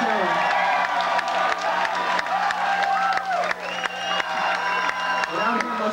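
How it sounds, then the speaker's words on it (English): Crowd cheering, whooping and clapping at a 1997 rock concert in Fargo, a loud continuous wash of voices with scattered claps and whistles. "Come on, round of applause."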